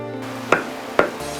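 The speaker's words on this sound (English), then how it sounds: "I already hear the sound of chopping wood." Two sharp chopping thuds about half a second apart, close and distinct, over a low steady background hum.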